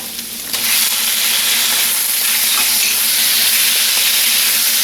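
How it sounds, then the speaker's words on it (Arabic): Chicken livers frying in oil over high heat, giving a loud, steady sizzle that swells early and holds without a break, with no talk over it. "بعد كده احط على طول الكبدة والنار عالية."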